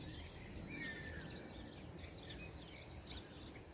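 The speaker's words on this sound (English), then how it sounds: "Can you hear the birds singing?" Birds chirp and sing outdoors in early spring, faint and scattered calls over a soft, steady ambient hush, with no voices.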